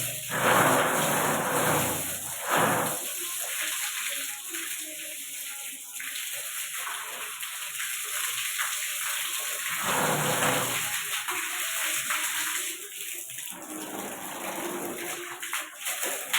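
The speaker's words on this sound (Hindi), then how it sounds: "तो पहले पाइप में मार कर पानी भर दे रहे हैं।" Water from a pipe fills a container during household chores, a steady rushing splash that stops and restarts several times over a constant background hiss.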